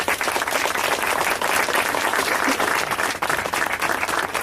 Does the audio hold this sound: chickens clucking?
no